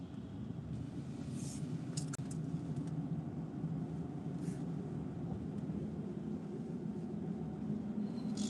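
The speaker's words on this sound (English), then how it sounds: "Noisy car." Noisy car passing, a steady broad engine and road rumble that holds at an even level throughout, fairly close and alone without talk.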